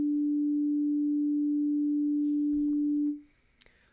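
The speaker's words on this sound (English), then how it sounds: "a sine wave generates a single tone" A pure, steady sine tone from a software synthesizer holds at one pitch for about three seconds, then cuts off, leaving faint quiet clicks and rustles.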